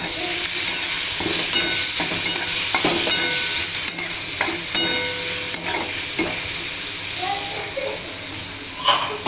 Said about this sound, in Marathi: मिठामुळे पटकन कांदा नरम होतो म्हणून मी मीठ पण टाकते त्याच्याबरोबर आणि चांगलं परतून घेते